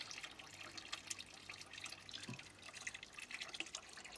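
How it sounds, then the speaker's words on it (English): Rainwater trickling from a garden water butt overflow into a pond, a quiet continuous patter of small drips and splashes with faint outdoor background. "The main feature here that I'm quite proud of is my overflow from the water butt."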